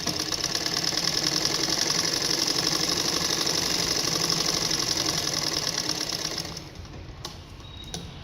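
A sewing machine stitches a blouse in one steady, fast, close run for about six seconds, then stops, leaving only a few faint clicks.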